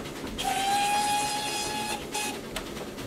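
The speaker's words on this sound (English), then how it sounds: "and then you get the B key whistle" A B-key steam locomotive whistle from the Trainz Plus train simulator, on a G&WSR route, blows one loud, sustained tonal blast of about one and a half seconds, followed by a couple of short, fainter toots.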